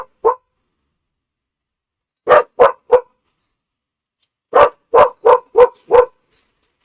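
A dog barking in sharp, loud, close barks: a single bark, then a quick group of three, and later a rapid run of five or six, with silence in between.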